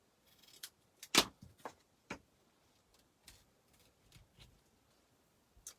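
Scissors snip burlap ribbon in a quiet room, a series of sharp close clicks and cuts spaced irregularly, one louder snip near the start.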